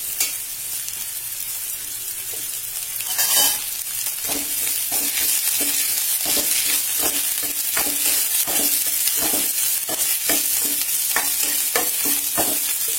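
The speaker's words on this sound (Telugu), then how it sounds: "వెల్లుల్లి వేగిన తర్వాత ఇదిగోండి ఉల్లిపాయలు కూడా ఇందులోనే వేస్తున్నాను." Onions and green chillies frying in hot oil with garlic, a continuous close sizzle broken by regular spatula scrapes against the pan, with no talking.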